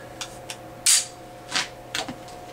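An RIA 1911 pistol fired inside a house from a Chip McCormick magazine gives a few sharp, separate reports spaced under a second apart, with quiet gaps between them.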